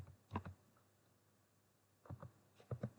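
Computer keyboard typing while entering Python code: a quick cluster of clacking keystrokes, a quiet pause, then a second, denser burst of keys, close and crisp.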